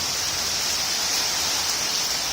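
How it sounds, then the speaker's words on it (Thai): Heavy thunderstorm rain pouring down steadily, a dense continuous hiss of downpour with no talk and no breaks. "ฝนฟ้าคะนองทีเดียวค่ะตกเยอะมาก"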